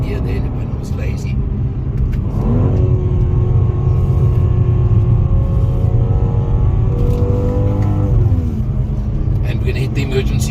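A car engine drones steadily through a fast lap, loud and close from inside the cabin, with a shift-like change in pitch partway through and another near the end.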